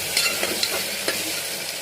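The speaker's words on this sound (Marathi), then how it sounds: "1 वाटी मी टमाटर घेतलाय तो ते टाकून घेऊन चांगलं तेलावरती परतवून घेऊया" Tomato sautés in oil over onion and ginger-garlic paste, a continuous bright sizzle broken by a few quick stirring scrapes, close and moderately loud with no talk.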